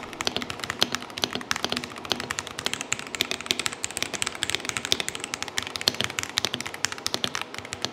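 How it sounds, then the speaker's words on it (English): Rapid typing on a mechanical gaming keyboard, a dense stream of crisp, clacky keystrokes at steady pace, close up with no voices. "their keyboards not only look good,"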